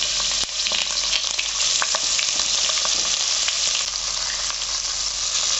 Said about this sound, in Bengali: তেল গরম হয়ে গেছে। কারি পাতা দিয়ে দিলাম, 2 শুকনো লঙ্কা, 2 কাঁচা লঙ্কা।